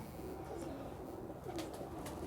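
Sialkoti pigeons cooing softly in a loft, low repeated coos at a faint, steady level with a couple of brief higher chirps.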